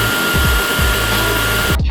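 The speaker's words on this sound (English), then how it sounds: "Cleaning function can be used once on base." An Aqua Pro wet vacuum sits on its charging base running its self-cleaning cycle, a loud steady motor whine with gurgling, sloshing water pulses underneath that stops abruptly near the end.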